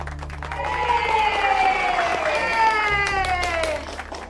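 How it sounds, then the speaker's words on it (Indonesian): A neighbourhood crowd applauds at a village award ceremony for the best RW head, steady clapping mixed with loud tonal voices calling out over it, then tapering off near the end. "Kenapa gue tepuk tangan nih?"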